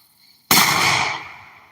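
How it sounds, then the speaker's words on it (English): A homemade flash-powder firecracker goes off with a single sharp, loud bang, followed by a crackling, hissing tail that fades over about a second, heard alone with no talk. "This is just a firecracker."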